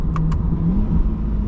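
New Corvette engine and exhaust, a steady low rumble droning close behind the cabin while driving, preceded by two quick light clicks at the start.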